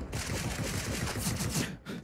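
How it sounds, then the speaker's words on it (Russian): Rapid gunfire crackles in a professional Counter-Strike esports match between G2 and Virtus.pro, dense continuous bursts of shots with bullets whizzing, loud and sustained before a short pause near the end. "Над головой эти пули свистели у нас."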